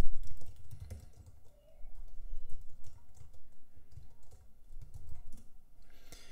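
Computer keyboard typing as a title is entered, soft close key clicks in short irregular bursts with pauses, fairly faint.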